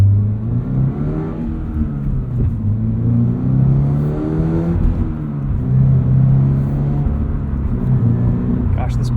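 A 2023 Toyota GR86 with a six-speed manual and GR Performance exhaust accelerating through the gears, its engine note climbing in pitch, dropping at each shift and climbing again, loud and close from inside the cabin.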